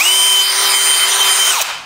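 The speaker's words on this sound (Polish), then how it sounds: "wkręcamy jakiś bardzo długi wkręt, bądź wiercimy olbrzymim wiertłem i natrafiamy na przykład na sęk" A cordless drill driver drives a very long screw into wood with a loud, close, high-pitched motor whine that holds steady, then slows and dies away at the end.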